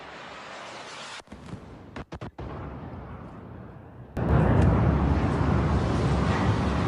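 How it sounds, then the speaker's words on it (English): A drone strike explosion erupts suddenly after a few brief cut-outs, a loud blast that swells into a heavy, sustained roaring rumble. "Big explosion there."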